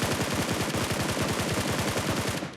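Rapid automatic gunfire from a PUBG Mobile match, a loud, dense burst of closely spaced shots running steadily for a couple of seconds before cutting off.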